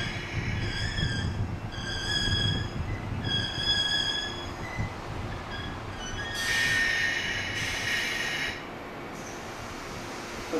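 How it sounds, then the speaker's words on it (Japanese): The Hamakaiji limited express train pulls in at platform 1 of a station, its wheels squealing in repeated high-pitched bursts over a steady rumble that stays close and loud, with no voices. "1番線には臨場特急浜海地号横浜行きの到着です。"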